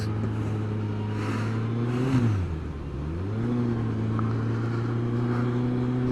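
A car engine hums steadily from inside the vehicle in night traffic, its pitch dropping and rising again as it slows and accelerates.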